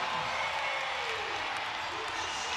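A basketball arena crowd roars after a hammered lob dunk, a dense, sustained wash of cheering and applause that stays loud and even throughout, with commentary voices mixed in.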